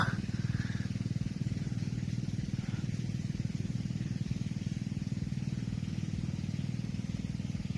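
A small engine drives a water pump in a rice field, chugging steadily with an even, rhythmic thump at close range throughout.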